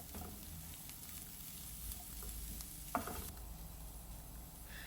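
Vegetables with green chilli and salt are stirred in a frying pan, a soft steady sizzle with faint scraping and one sharper clack, close and quiet, without talk.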